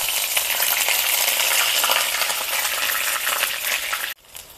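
Onions with ginger garlic paste sizzling in hot oil for a tempering, a loud continuous crackling hiss that cuts off abruptly near the end.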